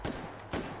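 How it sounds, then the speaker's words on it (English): Two sharp rifle shots from an M1A in a video game, about half a second apart, each a loud crack with a short tail over quiet game ambience. "Rezduck thumping some hot dogs in the head here with his T-posing M1A."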